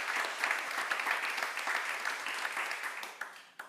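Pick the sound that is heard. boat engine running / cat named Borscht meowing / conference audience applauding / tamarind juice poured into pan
conference audience applauding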